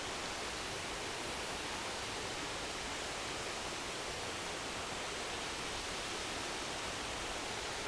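A waterfall on a seven-mile trail loop gives off a dense, unbroken roar of rushing water, loud and even from start to finish, with no voices.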